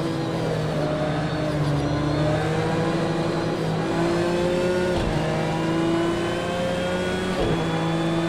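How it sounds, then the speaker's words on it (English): Race car engine in a racing video game drones loudly and continuously, its pitch climbing in steady stepped gear changes with brief dips around upshifts, alone with no talk. "That engine doesn't sound right"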